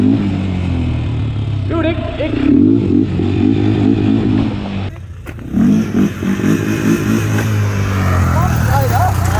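Honda 400ex ATV engine revving hard during a wheelie on bald tires, a loud rasping roar that rises and falls, with a brief dip midway and someone shouting over it.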